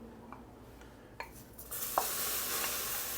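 Vegetables hit the pot for a Cajun shrimp creole over a low flame, a few quiet utensil taps giving way to a steady soft sizzle with scattered stirring clinks.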